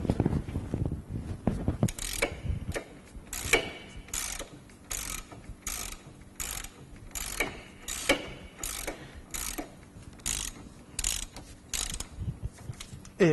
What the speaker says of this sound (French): À l'aide d'un cliquet et d'une douille numéro 13, je vais les desserrer.